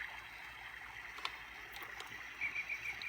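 Toy waterfall effect from a Fisher-Price Rainforest bouncer, a faint gentle gurgling trickle of water sound with soft chirps near the end, quiet and unaccompanied by talk.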